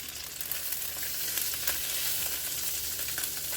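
Salmon cakes sizzling and frying in a pan as they are flipped, a continuous crackling hiss with small spikes of spatter, close and without talk.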